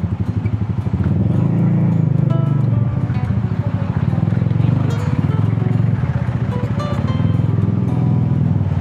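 Street traffic at a busy intersection in Obando, with cars and motorcycles idling and revving close by, a continuous loud rumble of engines that rises and falls without a break.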